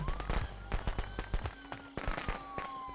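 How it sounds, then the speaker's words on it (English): A string of sharp firecracker pops goes off in rapid, irregular bursts in the Friday the 13th game, crackling fairly close over a low background hum. "Those firecrackers, I knew would come in handy!"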